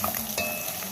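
Grated garlic being stirred into ground meat frying in a pan with herbes de Provence, a steady close sizzle with scraping stirs of the spoon throughout.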